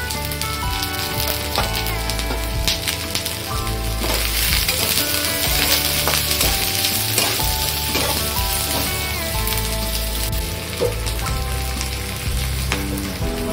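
One large chopped onion frying in a pan for an Agri-style crab thali, producing a loud, continuous crackling sizzle with occasional stirring, sustained without speech.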